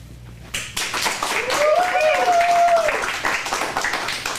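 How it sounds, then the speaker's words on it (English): An acting class bursts into sustained clapping and applause for actors walking onstage, a dense, steady patter with a raised voice calling out over it. "Stars on Broadway, when they first walk onto the stage, they always get an applause."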